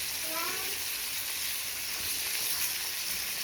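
Garlic fries in a pan with a steady, close hiss and sizzle that holds at an even level throughout, with a faint stirring scrape beneath it.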